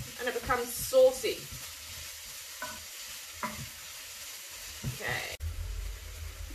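Tomatoes seasoned with pepper and salt simmer in a pot for eggs in hell, soft sizzling under intermittent scraping stirs, with a person speaking over it and a louder bubbling hiss at the end.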